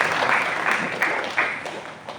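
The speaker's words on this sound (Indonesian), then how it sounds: "Sekali lagi kasih aplaus untuk Bapak Kiai" Audience at a mosque gathering in an Islamic boarding school in Bima applauding the Kiai: a dense, steady wash of clapping from many hands, moderately loud and close, with a few sharper swells.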